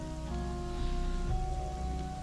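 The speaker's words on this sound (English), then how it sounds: "It rains in the inside." Rain falling inside a castle in the video game Presence of Darkness: a steady, even hiss of rain patters on a surface under faint sustained game tones, continuous and with no voices.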